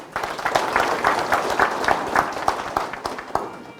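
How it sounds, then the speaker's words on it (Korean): Audience applause for the head of an agricultural cooperative at a garlic-farming talk in Danyang, a crowd of hands clapping steadily and fairly close with pulsing rhythm for a few seconds, no talk over it. "우리 조합장님한테 박수 한번 주시죠"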